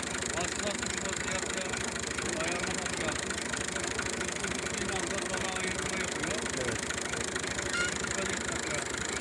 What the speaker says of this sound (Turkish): Bu, bu şekilde oluyor değil mi şimdi bunun hasadı? Aynen. Traktör yardımıyla.